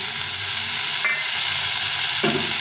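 Bitter gourd, potato and tomato fry in a pan with a steady close sizzle, stirring scrapes running throughout and a brief sharper burst of sizzling near the end as tomato goes in.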